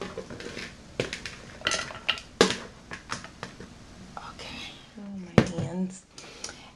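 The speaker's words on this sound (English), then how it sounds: "Going to transfer this mixture to our blender." A spoon clinks and scrapes against a bowl and blender as a mixture of broken-up pieces and water from a digestion demonstration is transferred, making scattered close knocks and taps under a soft voice.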